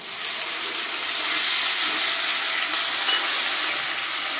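Water poured into a hot pan of Bengali paneer kaliya gives a loud, steady sizzling hiss that holds throughout without a break.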